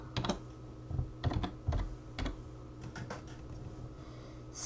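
Code being typed on a computer keyboard for an Arduino LED-blinking program, with quick clusters of key clicks and short pauses between bursts, close and fairly soft, with no voice.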